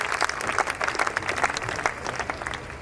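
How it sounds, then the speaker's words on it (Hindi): Dense audience applause fills the room at a Hindi comic poetry gathering (hasya kavi sammelan), welcoming the poet Praveen Shukla to the stage with steady, many-handed clapping at moderate distance. "जोरदार तालियां बजाकर आमंत्रित कीजिए भाई प्रवीण शुक्ल को।"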